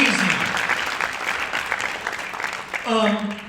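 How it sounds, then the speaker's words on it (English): Audience applause fills the room at a summit's closing session, a dense, steady clatter of many hands that thins slightly before a voice begins speaking over its tail. "So give yourselves a round of applause, please."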